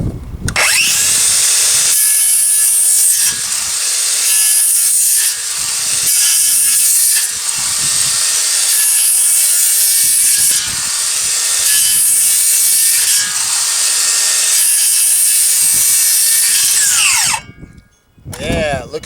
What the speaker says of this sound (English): Now let's go cut a piece of wood.